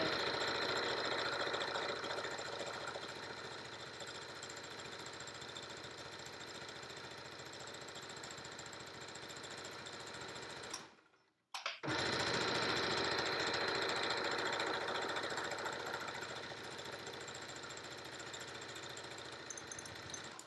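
A home sewing machine running a straight stitch on a Yup'ik qaspeq, a steady mechanical whir that holds for about ten seconds, stops briefly, then starts again and continues at the same even level with no talking.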